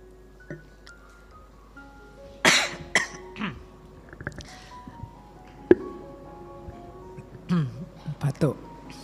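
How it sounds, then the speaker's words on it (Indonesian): Coughing during a philosophy study lecture, sounding as a few sharp bursts near the mic, the strongest about a third of the way in and others later, between quieter stretches of room noise. "Batuk."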